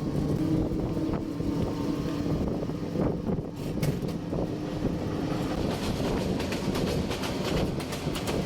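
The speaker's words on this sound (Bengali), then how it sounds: "ট্রেনের কথা বলতে না বলতে আমরা জামালপুর এক্সপ্রেস ট্রেনে দেখা পেয়েছি, যেটা মূলত সামনে যাচ্ছে" The Jamalpur Express passes near a bridge in rural Jamalpur, Bangladesh, with a continuous heavy rumble and rattling clickety-clack of wagons rolling by at close range, steady throughout.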